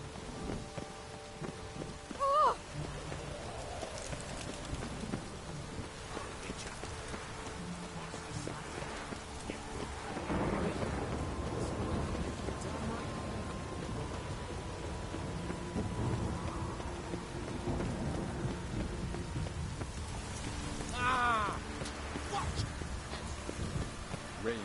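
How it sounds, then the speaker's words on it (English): Steady rain pours over a dreary city in The Witcher 3 on PS4, with rolling rumbles of thunder and a sharper crack near the start, while muffled voices come and go beneath the storm. "Rain makes this city even more dreary."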